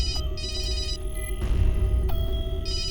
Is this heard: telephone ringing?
yes